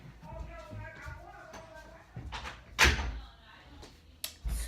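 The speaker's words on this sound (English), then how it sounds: "I'm gonna close my door." A bedroom door is pushed shut up close, ending in one solid thud followed by a smaller knock, with a person talking briefly just before it.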